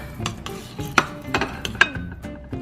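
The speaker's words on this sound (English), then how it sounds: "I am just gonna put around 1/4 cup more of cheese. And then mixed very well." A spoon stirs extra cheese into a creamy shrimp fettuccine sauce in a pan, giving close scraping strokes and a few bright metallic clinks against the pan in an uneven rhythm, with a faint sizzle beneath.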